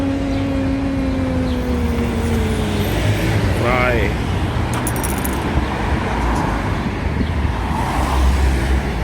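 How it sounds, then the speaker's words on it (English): Busy road traffic on Unter den Linden in Berlin, a steady broadband rumble of passing cars and buses close by, with a brief voice and other street sounds over it. "Heavy traffic."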